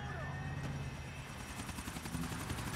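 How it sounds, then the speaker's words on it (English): A helicopter in the video game Grand Theft Auto: Episodes from Liberty City gives a steady, heavy rotor drone with a rapid beating thump throughout, mixed with game sound. "We're taking a helicopter."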